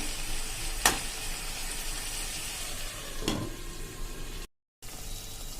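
A Punjabi-style potato and capsicum curry sizzles gently in a pan as a low, continuous frying hiss, broken by two sharp scraping stirs of a spoon and a brief moment of silence.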